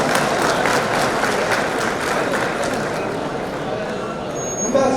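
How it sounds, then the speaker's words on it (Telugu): A hall audience claps during a presentation at a Telangana Vysya gazetted officers' association meeting in Nagole, steady crowd applause with distinct hand strikes, carrying on throughout with a brief louder burst at the close. "దయచేసి క్లాప్స్ కొడుతున్నారు"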